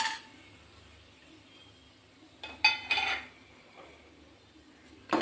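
A spoon stirs mustard seeds and whole spices in hot oil in a pot for chicken kulambu, giving a few metallic scrapes and clinks over a quiet sizzle, with the loudest burst in the middle.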